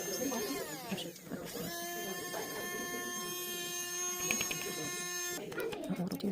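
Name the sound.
small electric mini grinder chopping up foils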